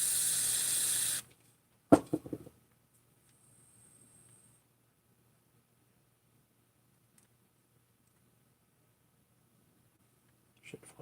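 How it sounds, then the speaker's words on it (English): Carb cleaner and brake cleaner from an aerosol can sprayed into an engine's intake, a loud, steady hiss lasting about a second before cutting off abruptly, followed by a brief clatter and near silence. "Just gonna run a little bit of carb cleaner"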